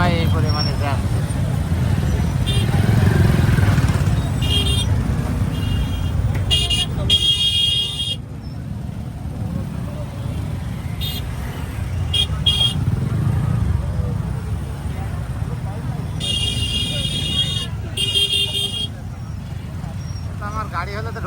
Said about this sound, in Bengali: মিরপুর ব্রিজ মাগরিবের আজানের সময় এই পরিমাণে জ্যাম।